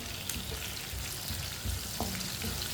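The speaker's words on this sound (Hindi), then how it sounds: "1 मिनट के लिए भून लेंगे सब चीज़ों को।" Whole cumin, coriander seeds and finely chopped green chillies frying in a pan for tori sabzi: a soft, steady sizzle with light scraping of a spoon stirring, fairly quiet and close, with no voices.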